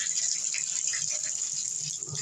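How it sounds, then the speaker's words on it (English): Water runs steadily from a bathroom tap in a hotel room, a constant close splashing hiss with no talking. "So the water does run good."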